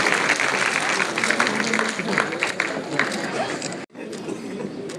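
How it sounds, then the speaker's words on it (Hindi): A large crowd at a Buddha Purnima celebration claps to welcome the chief guests, continuous applause with crowd murmur and a voice over a loudspeaker, briefly cutting out near the end before resuming. "जोरदार तालियां बजा करके स्वागत करें हमारे मुख्य मेहमानों का"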